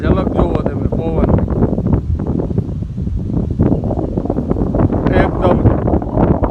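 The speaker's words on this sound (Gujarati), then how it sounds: "એકદમ અતિ ભારે પવન." A very strong stormy wind buffets the microphone in Porbandar and thrashes coconut palms, a loud, continuous roaring rush with gusty surges; a voice speaks faintly underneath.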